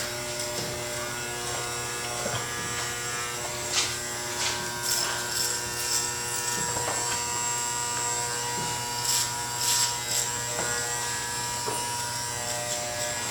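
Electric hair clippers fitted with a number 3 guard buzz steadily while cutting hair for a military-style fade, a close, continuous motor hum with small shifts in pitch as the blade moves through the hair.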